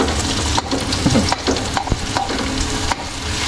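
Chopped garlic and onion fry in hot oil toward golden brown, giving a dense continuous sizzle close by, broken by the scrape and knock of a spatula stirring the pan.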